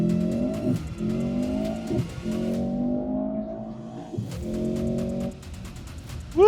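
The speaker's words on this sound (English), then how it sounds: "let's see a full-fledged drag race start" A Mercedes-AMG C63 with a powerful four-cylinder engine launches from a drag race start. The engine screams up through several gears with brief dips at each shift, loud and close, ending with a tire chirp.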